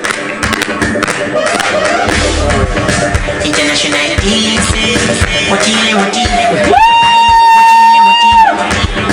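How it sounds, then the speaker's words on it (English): An audience claps and cheers for the president at a youth question session during Malawi's 2025 State of the Nation events; loud, sustained applause from a crowd, joined near the end by a steady held musical tone. "We can clap hands for him, cheer for him if we are happy and content on how he has addressed this."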